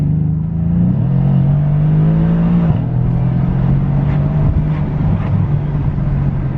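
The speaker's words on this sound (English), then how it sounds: "as soon as you start up, you hear it roar, and it just sounds like a beast." A Mercedes-AMG C63 S coupe's 4-litre engine roars at a steady high rev, loud and close, with a brief dip in pitch midway and a few crackling pops.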